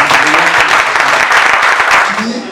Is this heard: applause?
yes